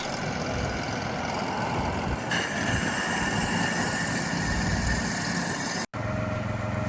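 A pressure washer machine used to clean a roof, house and sidewalks runs while warming up, a loud, steady mechanical drone held for several seconds with a brief cutout near the end.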